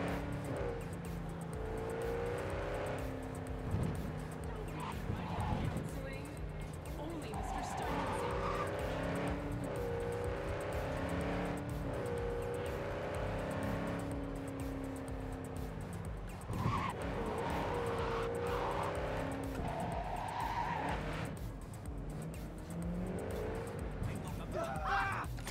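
AI traffic cars drive through the streets of Cyberpunk 2077, with engine drones rising and falling in pitch and vehicles passing close by, while someone talks over them.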